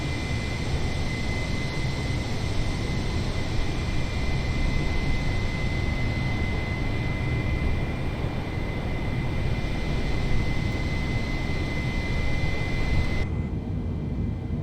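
Steady, loud airliner cabin and engine drone from Microsoft Flight Simulator, a continuous broadband roar with a faint high whine running unchanged for about fourteen seconds, no voices.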